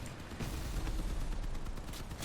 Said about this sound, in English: And there's 1 shot out.